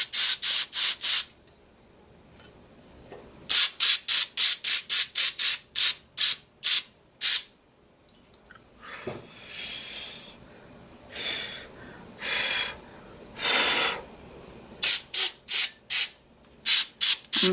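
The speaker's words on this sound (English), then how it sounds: "Now I'm going to spray around the edges of the puddle." A spray bottle is pumped around the edges of an alcohol ink puddle in rapid bursts of sharp hissing spritzes, loud and close, with a stretch of softer, longer sprays before quick bursts resume.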